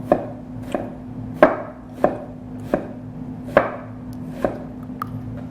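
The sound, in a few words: rough chopping an onion with a knife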